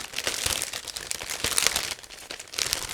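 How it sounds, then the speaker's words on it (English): A resealable plastic bag holding the parts of an ICM 1/32 Hs 123A-1 late model kit is opened and handled, giving close, continuous crinkling and rustling of thin plastic with brief crunchy peaks throughout. "all parts are actually sealed into one plastic bag, but it's a resealable plastic bag, so that's why it should be quick and easy to open."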